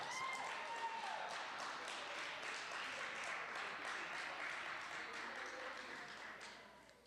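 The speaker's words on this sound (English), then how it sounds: "Let's give her another round of applause." A talent hunt audience gives a performer sustained applause, a steady, soft wash of clapping from a crowd that tapers off slightly toward the end.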